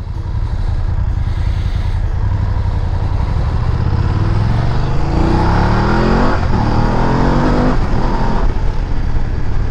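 A 2020 BMW F850 GS motorcycle engine runs loud and close, rising through the gears with repeated revving climbs and short dips between shifts over steady wind rush.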